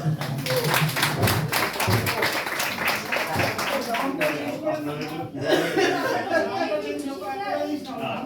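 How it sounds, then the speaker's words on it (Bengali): An audience at a gathering claps in a burst of sharp, dense applause that fades after a few seconds, with chuckles and chatter running underneath and on past it. "একটু জোরদার হাততালি দিয়ে"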